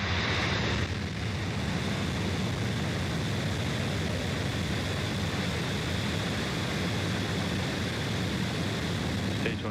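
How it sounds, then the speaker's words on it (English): At liftoff, a SpaceX Falcon 9 rocket's engines produce a steady, dense, broadband roar that holds at constant loudness throughout, with no voices over it. The launch carried the Sirius SXM-8 satellite. "Ignition and liftoff."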